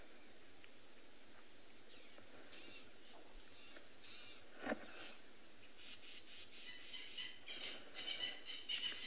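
Francolins call from the bush on a sunset safari drive, a few faint scratchy cackling bursts standing out at a distance over a low steady vehicle hum, growing busier toward the end.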